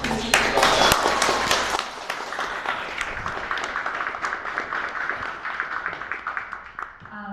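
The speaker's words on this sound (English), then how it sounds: "Big round of applause for Chrissy." An audience at a live convention breaks into applause, a dense burst of clapping that starts loud and gradually thins and fades over several seconds, heard from within the crowd.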